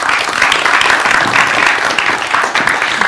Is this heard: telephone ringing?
no